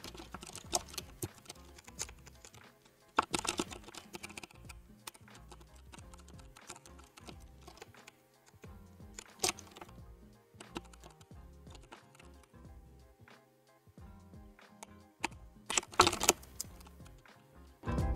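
Rapid clattering keystrokes on a mechanical keyboard fitted with purple and orange switches, uneven bursts of close, crisp clicks during game play with louder clusters scattered throughout and no speech.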